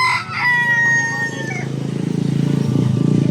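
A rooster crows loudly and close by, its call trailing off before a chicken breaks into a rapid, repeated clucking that builds steadily.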